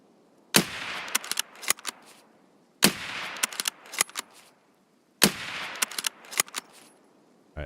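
Gunfire in the shooter game Escape From Tarkov comes in three loud bursts, each a sharp opening shot followed by several rapid cracks, with near-silent gaps between the volleys.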